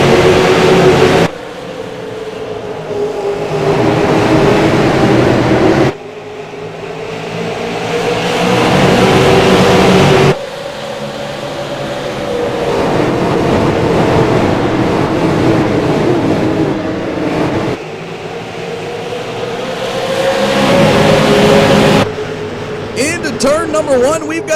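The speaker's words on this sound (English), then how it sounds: "Watch the number 7 of Darrell Hamlin get on the throttle." Race cars accelerate at a SARA series race at Lucas Oil Raceway: loud, sustained engine roars rising and falling in pitch as several cars pass in successive waves. An announcer talks over the engines.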